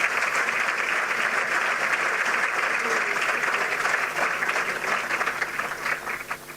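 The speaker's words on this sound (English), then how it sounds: "give a round of applause to all our athletes representing us in Paris" A conference hall audience at a CARICOM heads of government meeting applauds for the nation's athletes in Paris, dense sustained clapping that holds steady before tapering off near the end.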